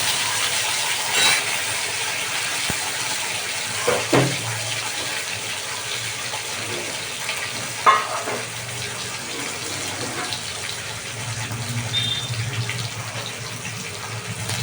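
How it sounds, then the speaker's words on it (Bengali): Two koi fish, rubbed with salt and turmeric, fry in hot oil, giving a steady close hiss and sizzle with occasional louder pops and spatters. "মাছ দুটো আমি ভালো করে ভেজে নিই।"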